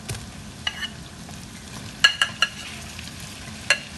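Prawns sizzle in a pan with onion and garlic, a steady frying hiss broken by several sharp clicks and scrapes of stirring, close and moderately loud with no talking.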